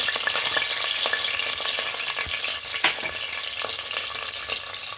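Curry leaves and green chili hitting hot oil in a pan while upma is being made, giving a loud, continuous close sizzle and crackle with scattered pops and occasional stirring scrapes, with no talk.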